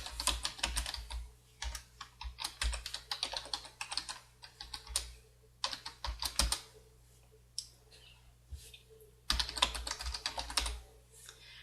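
Commands being typed on a computer keyboard in DOSBox, with close, crisp key clicks arriving in quick irregular bursts separated by short pauses and no talking.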